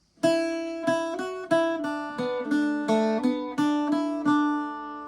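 A plucked Irish bouzouki plays a short, bright melodic phrase from MacArthur Road, ringing sustained notes with clear attacks, close and alone, no voices.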